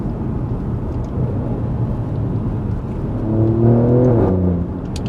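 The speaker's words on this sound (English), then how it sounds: "The thing is with that V6 as well, it's got that low kind of grunt." Alfa Romeo Giulia Quadrifoglio V6 engine giving a low, steady grunt while driving, heard from inside the car and swelling louder with a rising tone toward the end.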